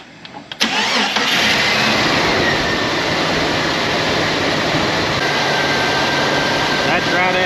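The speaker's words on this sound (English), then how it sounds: "But I'm gonna show you a true cold start." True cold start of a 4.0 engine: a brief starter whir, then the engine catches with a sharp burst and settles into a loud, steady fast idle close by, with someone talking over it.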